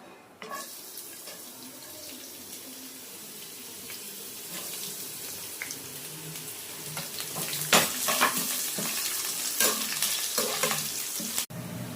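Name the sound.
vegetables frying in oil in a pan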